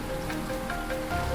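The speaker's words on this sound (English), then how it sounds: "the only sounds in the cabin were the subsiding rain and the crackling fire" Rain patters steadily on a cabin roof during a flash-flood night, a soft continuous wash of close drops with no voices.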